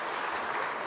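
Audience applause at a snooker final between Judd Trump and Ali Carter, a dense steady patter of clapping that carries evenly through the short moment without any talk.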